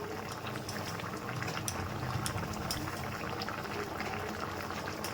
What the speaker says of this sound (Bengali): ভাজা মশলাটা দিয়ে 5 মিনিট ফুটিয়ে নিলাম